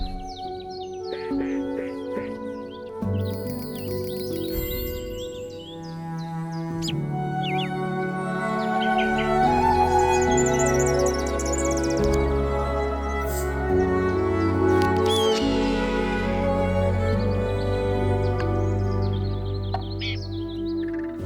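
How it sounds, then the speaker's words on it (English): Layered birdsong with chirps and tweets rings over a soft, sustained musical backdrop, bright and continuous throughout, from the board game adaptation Wingspan. "the charming world of birds and sounds in Wingspan"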